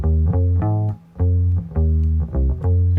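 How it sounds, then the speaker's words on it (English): Electric bass played with a pick on a song's chorus, loud and close, with a steady run of plucked notes in a syncopated groove and one short break. "And we have electric bass played with a pick."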